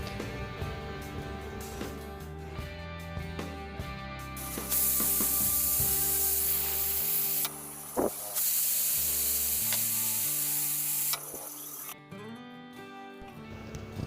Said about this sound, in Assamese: এয়া চিটি বাজি গৈছে।